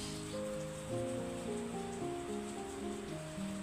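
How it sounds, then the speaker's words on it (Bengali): Rain falls during a morning thunderstorm in Bangladesh, a steady, dense hiss that holds evenly throughout at a moderate level, with no voices. "সাতটা বাজে কি সুন্দর ঝড় বৃষ্টি নামতেছে বৃষ্টি"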